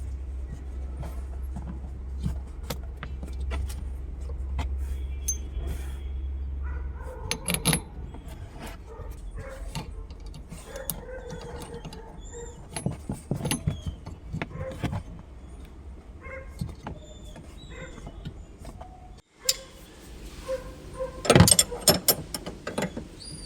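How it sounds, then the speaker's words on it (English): Ratcheting and metallic clicks while a nut is tightened on a Suzuki Swift rear shock absorber, a series of irregular close taps and clacks with quiet gaps between. "Fully tighten the nut."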